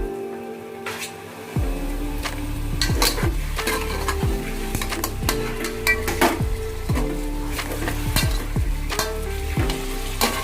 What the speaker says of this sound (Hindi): इसको थोड़ा सा चलाएंगे।